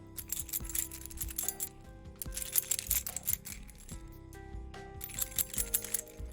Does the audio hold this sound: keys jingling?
yes